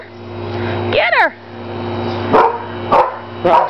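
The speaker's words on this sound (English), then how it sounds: "Rasta's gonna bark." Dog barking outdoors during a chase game with another dog, several sharp barks spaced about a second apart, fairly close and loud over steady background hum.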